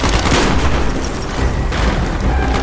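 Mortar and heavy weapons fire in a Call of Duty: Black Ops battle, with continuous loud booming blasts and gunfire that stay dense throughout.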